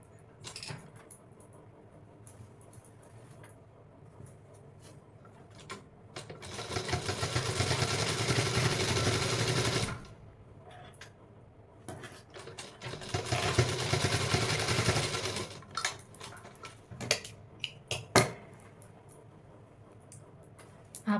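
A sewing machine stitches a pocket on a pair of ladies' pants in two runs of steady motor whirring, each about three seconds long, with quiet handling clicks and rustles between and after them.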